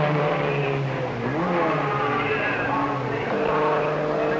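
A 1958 Formula One Grand Prix car roars steadily past at full speed toward the finish line, a sustained loud engine drone with slight pitch shifts, amid crowd and track ambience.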